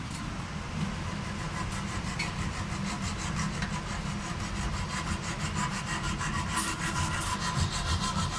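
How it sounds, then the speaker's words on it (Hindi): A small hand saw cuts through a metal rod while an air conditioner condenser fan motor is being replaced, a steady rapid back-and-forth rasping that runs on without a break, close and fairly loud. "ये छोटी आरी लेके आप इजीली इसको काट सकते हैं।"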